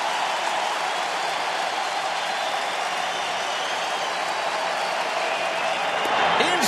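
Baseball crowd at a Cubs–Tigers game in Detroit rising to its feet and cheering, a broad sustained roar that holds steady throughout with no clear breaks.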